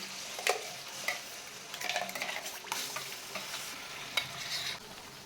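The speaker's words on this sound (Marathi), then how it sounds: "आता हा मसाला तेल सुटेपर्यंत भाजून घ्यायचा आहे" Ground spice paste sizzles steadily in plenty of hot oil while a spoon scrapes and stirs the pan, with a few sharp clinks of metal.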